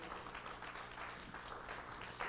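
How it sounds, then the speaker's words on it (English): Morning church congregation giving a hand clap of praise, a soft, distant patter of many hands clapping steadily for about two seconds, faint and uniform. "let's give God a hand clap of praise this morning"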